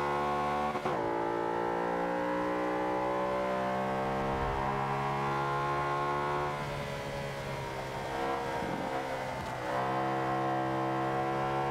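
Race car in Forza Motorsport 5 accelerating hard: a loud, close engine drone climbs steadily in pitch, with a sharp shift or jolt near the start and another rise after a brief dip late on.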